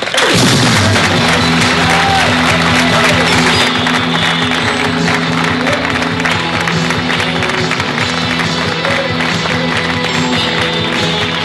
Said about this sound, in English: please give a nice round of applause and a welcome for Eric Hill